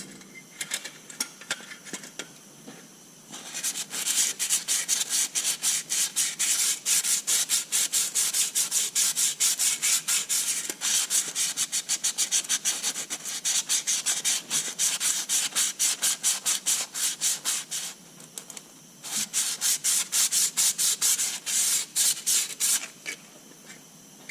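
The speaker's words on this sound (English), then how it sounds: "all I'm going to do is run some sandpaper through this lightly" Sandpaper is worked by hand through a Detroit 353T engine cylinder liner to clear away rust. The close, raspy scrubbing comes in rapid back-and-forth strokes, steady for most of the clip, with a brief pause near the end and no talking.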